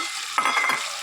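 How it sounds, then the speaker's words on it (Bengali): A fried fish head goes into a pan of spices and is stirred, producing a sudden close sizzle with scraping and spattering over a quiet hiss. "ভাজা মাছের মাথা দিয়ে দিলাম"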